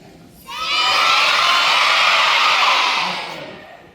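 A large crowd of elementary school children shouts and screams loudly all at once in a school gathering, a sustained roar that swells quickly, holds, then fades away.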